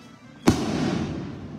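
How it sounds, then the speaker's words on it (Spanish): A single loud rocket explosion at a Marian religious procession in Sahuayo, Mexico, hitting sharply and then leaving a sustained rumbling, hissing decay that carries through the open air. "Y siguen los cohetes, ya van a estar más cerquita de nosotros."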